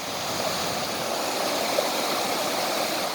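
A river beside a hiking trail near St Luc flows in a steady, even rush of water that stays constant throughout with no voices.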